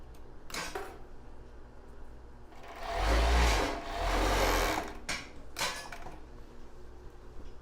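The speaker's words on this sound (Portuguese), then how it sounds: "agora eu vou passar outra costura aqui na lateral" A sewing machine stitches the side seam of a plus-size bra, running in a loud close burst of about two seconds between short clicks and handling noises, with no talk.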